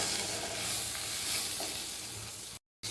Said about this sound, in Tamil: இப்போ எல்லாத்தையும் நல்லா வறுத்துக்கோங்க.